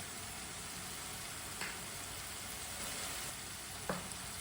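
Turnip and pea sabzi with garlic and coriander sizzles softly in a pan while being stirred, a steady faint frying hiss broken by a few light scrapes of the spoon, with no talking.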